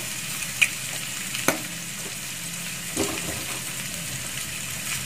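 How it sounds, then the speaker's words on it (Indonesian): An egg cracked into a hot pan after stir-fried clams, frying with a steady close sizzle, a couple of sharp clicks and a soft scrape partway through, no talking. "Lalu saya ceplokin telur ya di sini."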